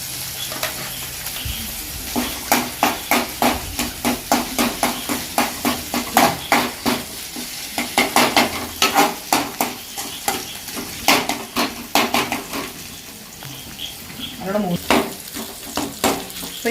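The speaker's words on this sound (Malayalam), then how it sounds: "അപ്പോൾ വെളുത്തുള്ളി നമുക്ക് ഇങ്ങനെ ഒന്ന് മൂപ്പിച്ച് കൊടുക്കാം" Garlic fries in a pan for a fish curry, the sizzle running beneath a steady series of sharp, rhythmic knocks and scrapes of a utensil against the pan, loud and close.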